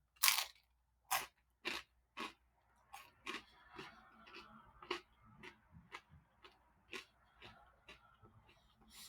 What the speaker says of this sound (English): Let me try the back crust here.